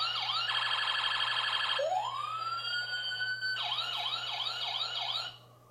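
Toy fire truck play set siren cycling through electronic modes: a fast warbling wail, a rising whoop that holds, then a quick yelping pattern. It is loud and close, then cuts off abruptly, with no talk.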